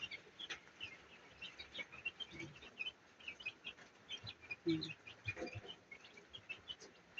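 Young chicks in a home-built incubator or brooder peep in a dense, steady chorus of short high chirps, with an occasional lower cluck standing out near the close.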